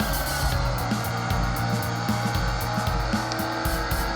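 A car drifts in the Need for Speed: Most Wanted racing game, a steady loud engine drone with continuous tire squeal and skidding throughout, no voices.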